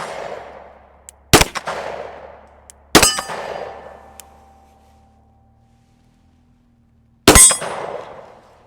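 Three sharp pistol shots from a SIG P365 FUSE, each followed by a ringing clang from a steel plate target that decays over a second or two, the shots well spaced with quiet gaps between.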